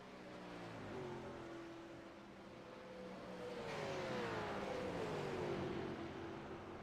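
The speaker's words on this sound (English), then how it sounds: "These cars make an incredible sound and an incredible show." Race cars from iRacing at Pocono Raceway sweep past with a steady engine drone, and a second rising note joins and then falls away as another car passes; the sound stays fairly faint throughout.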